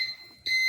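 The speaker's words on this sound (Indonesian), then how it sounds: "Untuk alarm tetap menyala alarm buzzer dikarenakan untuk indikasi ketika arus overcurrent." A power meter system's alarm buzzer sounds for an overcurrent condition, giving a steady, piercing electronic tone that dips briefly and then resumes at full loudness.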